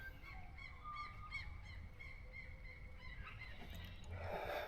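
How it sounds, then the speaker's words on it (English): Faint bird calls repeat in short rhythmic bursts over a soft, steady outdoor background hum. "Listen to the birds."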